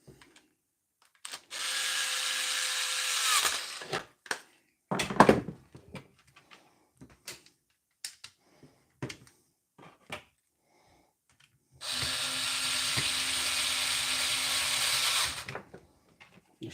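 A Draper power drill converted to run on a DeWalt Flexvolt battery, set to 4 Nm of torque, whirs in two separate multi-second bursts, with scattered clicks and knocks from handling in the quiet between them.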